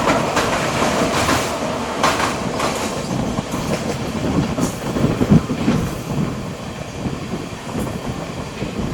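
Amrit Bharat train on its first commercial run, Charlapalli to Thiruvananthapuram, rolling along the railway track after a halt, with steady loud rumble and rhythmic wheel clatter throughout.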